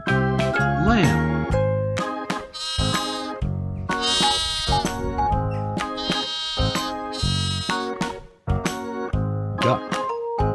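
A lamb bleats several times in a row over a bouncy nursery-style music backing, each wavering call loud and close.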